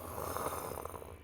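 A person mimics a very loud snore with a single rasping, breathy drone that lasts just over a second, close and fairly quiet overall.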